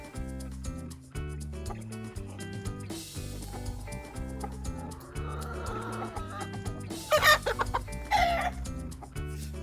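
A toy rooster clucks and crows over loud, bouncy music in a children's farm animal play scene, with a brighter crowing burst toward the end.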